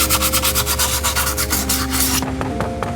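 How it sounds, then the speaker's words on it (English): A wire wheel scrubs a Mazda Miata engine part being cleaned up for an engine rebuild, giving a steady loud abrasive rasp with pulsing strokes and a brief change near the end. "So let's wire wheel this."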